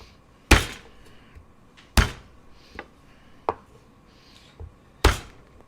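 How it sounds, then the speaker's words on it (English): Garlic cloves are crushed on a cutting board in a kitchen, giving four or five loud, sharp thumps at uneven intervals, close by, with lighter knocks between them and no talking. "So I crush the cloves."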